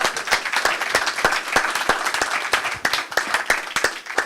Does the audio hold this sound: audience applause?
yes